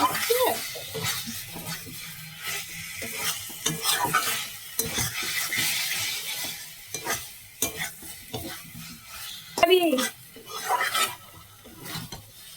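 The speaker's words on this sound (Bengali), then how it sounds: "আরেকবার নাড়িয়ে নিই ভালো করে তারপরে জল দেবো" Mushroom curry frying in a pan as it is stirred, a continuous sizzle with repeated spoon scrapes and clinks against the pan, close by, with brief bits of voices in the background.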